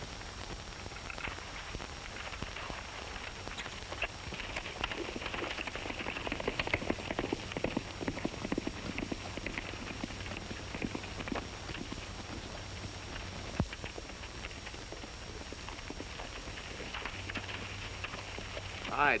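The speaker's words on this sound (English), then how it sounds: "Stoney, how about using your horse? He's faster than mine" Horse hooves clip-clopping on the ground in an old western ranch setting, a faint irregular patter of hoof strikes with scattered background noise and no clear talk.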